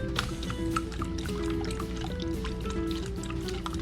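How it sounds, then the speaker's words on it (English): Beaten egg mixture is poured onto bread in a home kitchen, giving a soft continuous liquid trickle with small drips and wet squishing, quiet and close, with no speech. "Make sure the eggs and the yolks are broken before you pour it on"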